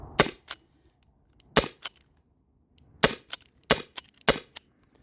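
Sharp, snappy shots from a Byrna SD launcher with a K20 Tools Fast Cap on an 8-gram CO2 cartridge, five main cracks spaced unevenly over a few seconds, each followed by a brief rattle, with no talking.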